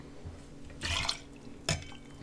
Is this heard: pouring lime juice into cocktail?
yes